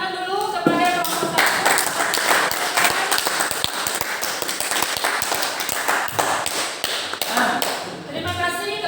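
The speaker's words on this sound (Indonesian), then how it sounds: "tepuk tangan dulu kepada kelompok" A classroom full of students claps steadily for several seconds, a dense crackle of many hands that tapers off near the end.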